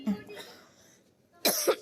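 A short cough bursts out near the end after a stretch of quiet, low voice sounds.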